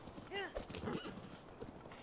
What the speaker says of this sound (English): Nothing better than riding your horse on the way to Kakariko Village